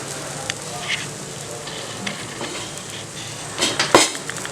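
Oil poured over adai dosa on a hot pan, a steady soft sizzle with scattered light clinks and scrapes, then a louder crackling burst near the end, close and fairly quiet.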